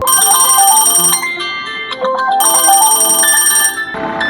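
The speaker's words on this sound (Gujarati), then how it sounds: "શુભાનો ફોન" A mobile phone ringtone for an incoming call plays loudly and close for about four seconds, a melodic electronic tune that pauses briefly midway and then repeats, with no talking over it.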